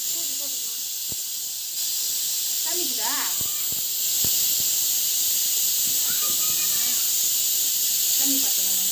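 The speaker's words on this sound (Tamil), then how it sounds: "இப்போ வந்து குக்கர் வந்து நல்லா வந்து விசில் வந்தாச்சு" A pressure cooker whistle hisses loudly and continuously, with faint clatter and soft background sounds beneath the steady high-pitched steam.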